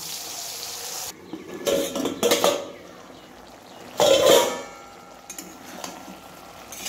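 A small amount of water is poured into a pot of pumpkin, stem and potato curry, making short splashing and sizzling bursts with clinks of cookware between quieter pauses.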